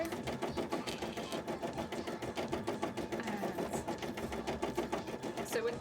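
An embroidery machine stitching beads and sequins onto a cosplay piece runs in a steady, rapid mechanical patter that continues without a break, close and moderately loud.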